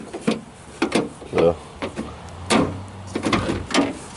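An old car's door being opened, heard as a few close clunks and latch sounds amid rustling and handling noises, with a person talking nearby throughout.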